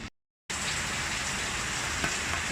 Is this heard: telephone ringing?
no